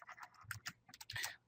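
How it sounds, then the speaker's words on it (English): Computer keyboard keys, W and right shift, pressed in a quick cluster of soft clicks and clacks, close and faint. "So I'm pressing the W, and now I press the right shift."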